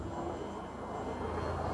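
A steady, droning engine from a tow plane pulling a glider, a constant broad roar heard from behind on the line without any speech.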